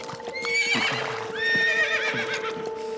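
A cartoon horse from Yakari neighs loudly in a rising and falling whinny, twice in close succession. A steady background hum runs under it and there are soft thuds that could be hooves.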